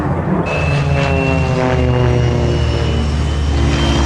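An aircraft flying past at the Biggin Hill Air Fair in 1993, producing a loud, sustained engine roar with a rising whine, close and dominant throughout, with no talk.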